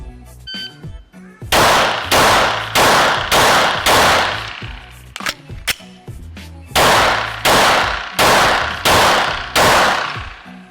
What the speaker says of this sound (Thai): ยิงเสร็จรีโหลดโดยยิงต่อให้ครบ 10 นัด